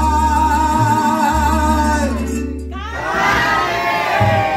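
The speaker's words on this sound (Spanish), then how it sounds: "Todos van a gritar el nombre de ella." At a birthday party with a youth mariachi group, a crowd yells a girl's name in unison, loud and close, a sustained chant with a brief drop before voices surge again over a steady low hum.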